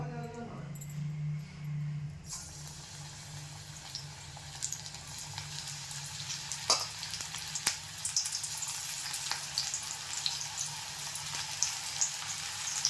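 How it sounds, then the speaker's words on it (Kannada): Onion bhajji, North Karnataka style, frying in hot oil: after a quiet start, a steady, close sizzle rises and runs on, dotted with sharp crackles and pops. "ಎಣ್ಣೆ ಕೂಡ ಕಾದಿದೆ ಇವಾಗ ಇವಾಗ ಒಂದೊಂದೇ ಬಜಿಯನ್ನು ಬಿಡೋಣ"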